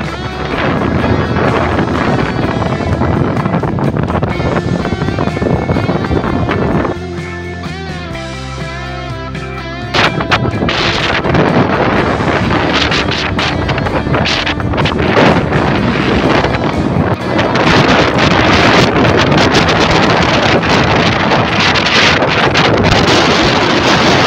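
A speed boat ride across open water near Munnar, with loud, steady wind buffeting the microphone and engine and water rush running almost continuously, briefly easing midway before returning full force.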